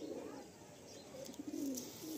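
A Madrasi old line pigeon coos softly while held in hand in a loft, giving a few low throaty coos that swell and fade over faint background noise.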